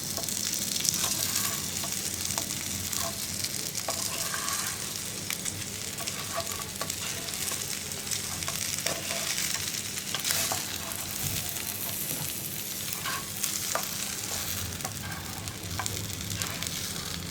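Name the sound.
stirring chicken with coconut in a pan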